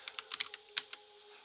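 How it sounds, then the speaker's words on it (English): Typing on a computer keyboard: about eight light, crisp key clicks in a quick, uneven run, close by and faint. "So now we start by simply typing Arch"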